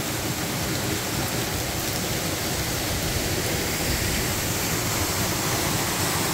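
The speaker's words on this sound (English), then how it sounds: "water falling up here above us" A waterfall near Lizard Log Falls in Arkansas gives a steady, dense roar of falling water that fills the whole clip evenly, loud and close, with no voices.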